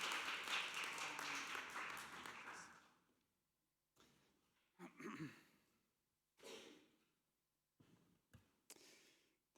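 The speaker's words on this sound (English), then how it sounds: "Please welcome him with open hearts and loud applause." An audience applauds to welcome a speaker at a family church service in Sydney. The dense clapping lasts about three seconds and fades out, followed by brief voices and breaths separated by quiet gaps.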